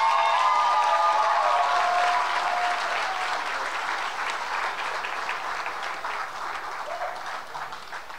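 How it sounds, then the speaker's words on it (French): Audience at a regional high school talent show finale on Quebec's Côte-Nord gives the performers sustained applause, with a few whistles and cheers early on, then a steady clapping that slowly eases off. "J'aimerais qu'on donne une main d'applaudissement pour toutes les artistes qui sont ici ce soir,"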